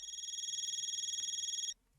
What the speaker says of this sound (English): The shrill sound of phone suddenly pierces the air.